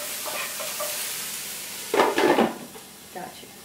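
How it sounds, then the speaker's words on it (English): Creamy Cajun pasta sizzles in a pan while it gets a quick stir, one short burst of scraping over a low steady frying hiss. "Give this a quick stir."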